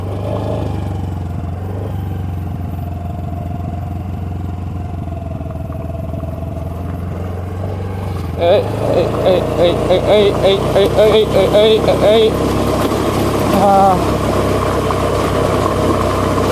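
A scooter's engine hums steadily while it is ridden slowly over a loose, sandy road on a coastal trip, with a rider talking over it and the motor note rising and pulsing partway through.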